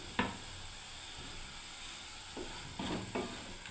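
Spice masala frying in oil for a paneer curry, a soft steady sizzle with a few brief scraping stirs of the spoon, faint and close, with no voices.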